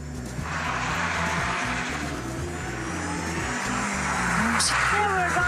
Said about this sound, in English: I'll try some handbrake turns.